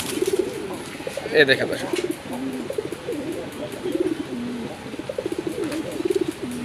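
A male Raj Golla pigeon cooing in repeated low rhythmic bursts, close up, with someone talking briefly over it.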